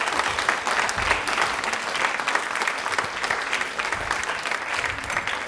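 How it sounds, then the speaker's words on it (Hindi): A studio audience at a Women's Day quiz show on Rajasthan television applauds loudly and steadily, a dense wash of clapping that carries on unbroken for several seconds with no voices above it. "तालियां जोरों से, शोरों से होनी चाहिए थी।"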